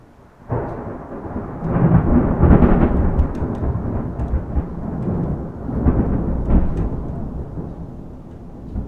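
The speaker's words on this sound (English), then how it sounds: "Listen to the thunder. Watch the thunder come." Thunder rumbles low and long, rolling in swells, with rain faintly underneath.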